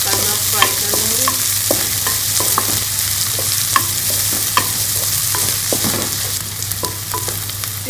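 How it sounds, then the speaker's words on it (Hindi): Chopped onions frying in cooking oil in a kadhai, a steady crackling sizzle with repeated scraping stirs of a spoon against the pan, close and fairly loud, with no talking. "हम ये प्याज डाल के इसका सब फ्राई कर लेंगे।"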